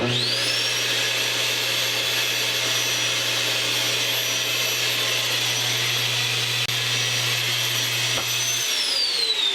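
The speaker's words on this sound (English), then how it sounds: "Got the central vacuum system installed." A loud, steady whine of a central vacuum system motor installed in an RV runs continuously, with a high-pitched whir that winds down at the end.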